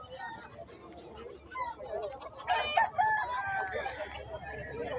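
Stag gamecocks crowing nearby, several overlapping crows and clucks rising in the middle, with someone talking at the same time.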